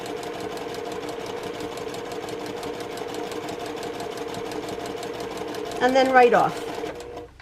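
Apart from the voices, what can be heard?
sewing machine stitching quilt block seam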